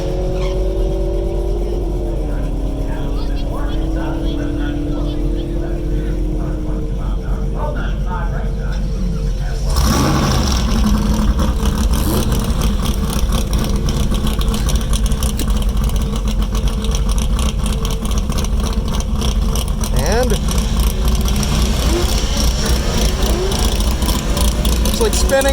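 Camaros at a drag race, with an engine rumbling and idling before a loud surge of revving and tire-spinning roar that holds steady and close, while a voice talks over it.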